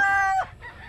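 Hens on a farm range vocalize up close: a loud, tonal clucking call rings out for under half a second, then gives way to softer, scattered fowl sounds.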